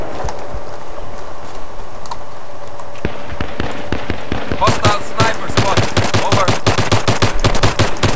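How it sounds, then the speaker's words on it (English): Shotgun fire and rapid gunfire in the Battlefield 3 PC game, sharp repeated shots that quicken into a dense volley toward the end, heard beneath a background hum. "Let's get some more shotgun kills."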